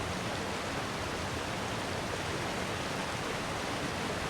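Steady rushing water in Shadow of the Tomb Raider, a dense even flow like a stream or small waterfall, constant and fairly close with no pauses and no voices.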